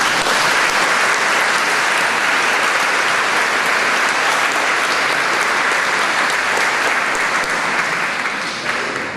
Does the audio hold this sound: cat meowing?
no